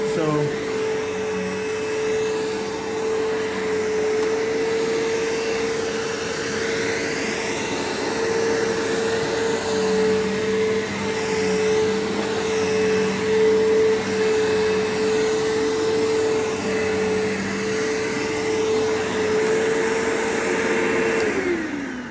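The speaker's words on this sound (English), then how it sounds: "this vacuum still works really well for being 20 years old" A 2004 Bissell Powerforce 3522-1 upright vacuum runs steadily on carpet, a loud continuous motor whine with a sustained tone that holds level for about twenty seconds, then drops in pitch as it shuts off at the end.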